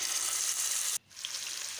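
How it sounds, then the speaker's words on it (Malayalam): Fish sizzles steadily in hot oil in a frying pan, a close, dense crackle that cuts off abruptly midway and then resumes a little softer. "ഇനി നമ്മുടെ പേരറിയാത്ത മീനും കൂടി വറുത്തെടുക്കാം"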